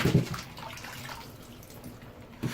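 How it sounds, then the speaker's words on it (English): Warm water splashes and trickles as a washcloth is soaked for bathing a Shih Tzu, a close, soft watery swish with a few louder sloshes at the start and end. "If you soak the washcloth in the warm water"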